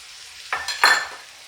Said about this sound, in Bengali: এখন আমি এর মধ্যে ভেজে নেওয়া যে মশলার গুঁড়ো সেটাকে ছড়িয়ে দিচ্ছি।